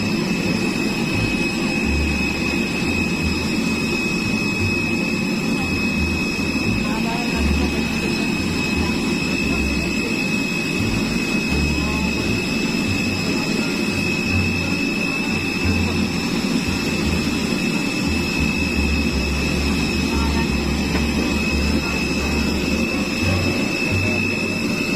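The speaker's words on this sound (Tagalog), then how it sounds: "Pasok ng aeroplano. Lagi na makina niya, no?" An airplane's jet engines run loud and close from inside the cabin, a continuous roaring wash with a steady high whine and a throbbing low rumble, unbroken throughout.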